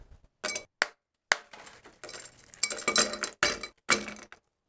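Massive ice chunks clink and knock against a glass in about eight sharp, close, separate hits with brief rattles between them.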